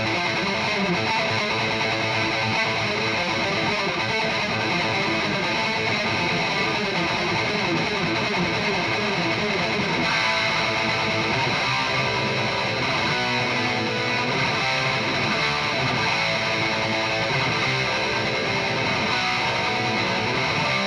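Sustained, heavily distorted electric guitar playing dense chords and riffs through a Marshall DSL amp, washed in the amp's digital reverb, loud and continuous throughout.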